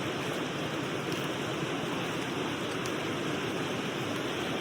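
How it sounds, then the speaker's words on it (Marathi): The Devkund waterfall roars from a distance during monsoon rain, a steady, broad rushing wash of falling water that stays even throughout with no voices over it. "मला इथपर्यंत धबधब्याचा आवाज येतो"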